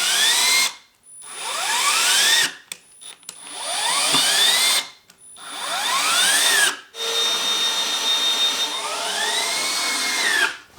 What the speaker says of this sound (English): I'm just going to tack it together with some screws